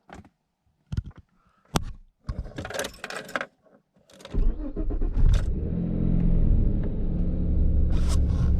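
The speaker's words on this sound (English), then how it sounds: "Oh, I love the sound of this car." After a few scattered clicks and knocks, a Vauxhall Calibra 2.5L V6 engine starts and settles into a deep, steady rumble that continues loudly to the end, on a clear night.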